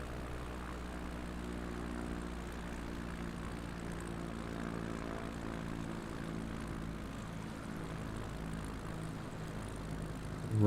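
Propeller airplane on final approach and landing in MS Flight Simulator, Patagonia bush trip, with a steady, loud droning engine hum held throughout and a sudden rise at the very end as the wheels touch down.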